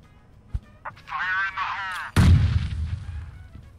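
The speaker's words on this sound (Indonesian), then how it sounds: "Gue udah dengar suara bom." A bomb goes off in the mobile battle royale PUBG Mobile, one sudden heavy boom with a rumbling tail that fades over about a second and a half. A voice speaks just before it.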